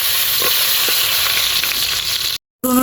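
Garlic sizzles in hot oil in a pot, a loud, steady frying hiss for the start of a village chicken curry, with a brief dropout near the end.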